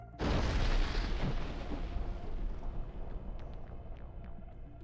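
An FPV drone strike hits a fortified house stronghold near Toretsk. A loud, close blast erupts suddenly, then rolls into a long, rumbling decay with scattered crackling debris and no voices.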